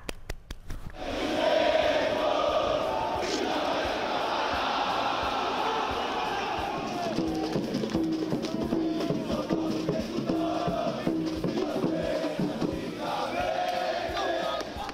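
A large crowd of São Paulo football fans roars and chants before a decisive match, a dense and steady wall of voices that swells after the first second and holds loud to the end.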